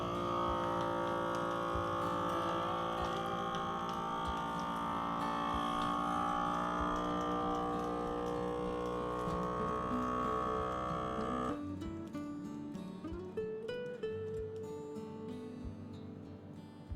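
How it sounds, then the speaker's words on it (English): A vacuum sealer sucking air from a bag of kohlrabi and sealing it, a loud, steady motor hum with a rich whine that runs continuously, then drops and shifts pitch as the pump cycle changes. "I hit vacuum and seal, and it's gonna be super loud."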